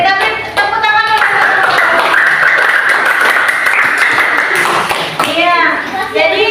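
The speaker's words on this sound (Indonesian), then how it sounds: "kita beri tepuk tangan dulu" Students in a school classroom clap for classmates who have just presented group work, a brief burst of applause mixed with children's chatter and a teacher's voice speaking over and after it.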